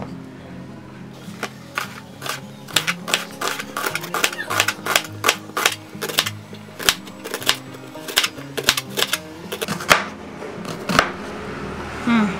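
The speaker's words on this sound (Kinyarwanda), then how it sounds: "turakata n'igitunguru. Igitunguru nacyo turagikata nka kuri wabonye twakase inyanya." A knife chops an onion on a board for a vegetable omelette, giving a fast, steady run of sharp, close taps with short pauses and a softer voice talking underneath.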